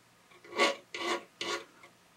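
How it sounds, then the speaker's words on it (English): A file rasps across the wood of a homemade guitar in three close, fairly quiet strokes, each a rough scraping burst about half a second long. "I'm just about done with the filing portion of this"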